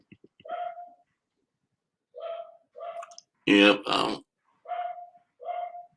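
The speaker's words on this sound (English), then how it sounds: "Something scaring that dog because dogs don't bark unless they're scared." A dog barks in short, separate yelps spread across several seconds, one brief spoken word in the middle.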